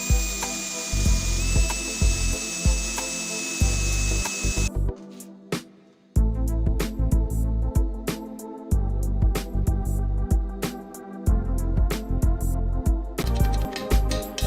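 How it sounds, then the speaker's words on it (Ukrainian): An electric drill bores a 3 mm hole and then taps an M4 thread in steel for a homemade vise, with a high steady whine early on followed by repeated short bursts of motor hum and clicking, close and fairly quiet. "Сверлимо отвір діаметром 3 мм і нарізаємо різьбу М4."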